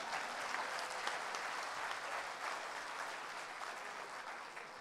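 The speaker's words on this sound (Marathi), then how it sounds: "या टाळ्या प्रायोजित नव्हत्या, या उत्स्फूर्त होत्या" An audience claps steadily at a discussion event, a dense sustained wash of applause that holds at even strength and eases slightly toward the end, with no voices over it.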